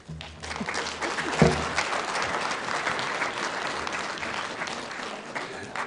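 An audience at a council meeting on privacy legislation breaks into applause, a loud, dense burst of clapping that rises quickly, peaks early with one sharp knock, then continues steadily to the end.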